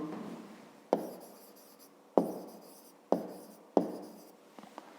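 Hand-writing digits during a fifth-grade math exercise: four distinct scratchy pen strokes, close and clear, spaced about a second apart in a quiet room with no talking.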